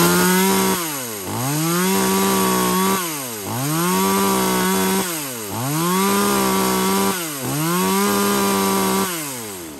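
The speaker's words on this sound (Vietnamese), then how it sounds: "em test tiếng nổ máy cho mọi người nghe nha" A Japanese chainsaw with a small two-stroke engine, tested after cleaning, revs up in four repeated bursts, each rising to a high buzzing whine and then dropping back, loud and close with no voices.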